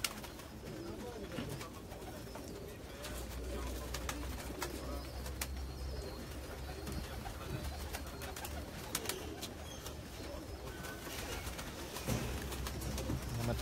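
Pigeons coo steadily in a loft amid a dense, noisy background with scattered clicks and rustles.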